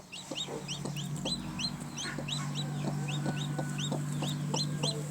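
Two newly hatched yellow chicks peep over and over in high, rapid chirps, close by, with a steady low hum underneath.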